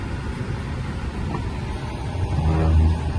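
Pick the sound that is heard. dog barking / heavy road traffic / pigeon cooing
heavy road traffic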